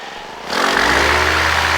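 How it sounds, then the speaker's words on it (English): A four-stroke paramotor engine, static on the ground, jumps from a low idle into a loud, steady high rev at about the half-second mark and holds the sustained roar to the end. "That pickup is very good pickup on the engine."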